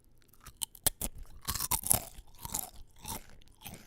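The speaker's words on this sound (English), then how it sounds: "The sound of chips being crunched in my mouth." Close, sharp crunching of potato chips being chewed in the mouth, a quick series of brittle bites followed by denser grinding mastication, loud and near with no talking.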